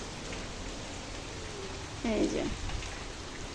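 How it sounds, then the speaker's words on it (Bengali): Rain pours during the Cyclone Remal storm as a steady, close hiss, with a short spoken phrase cutting in briefly partway through. "ঝড় বৃষ্টি এখনও হচ্ছে"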